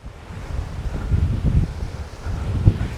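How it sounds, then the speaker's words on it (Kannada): Strong wind gusting across an open hilltop hiking trail, a steady low roar with surges and a sharp buffeting burst near the end, close and fairly loud with no one talking. "ಈಗ ತುಂಬ ಗಾಳಿ ಬರ್ತಾ ಇದೆ, ಹಾಗಾಗಿ ತಂಪಾದ ಅನುಭವ."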